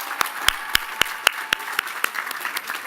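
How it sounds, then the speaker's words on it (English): Audience applause at a college commencement ceremony, with crisp regular claps near the microphone standing out sharply over a softer, wider crowd of clapping. "How about a round of applause for the men and women working with buildings and grounds?"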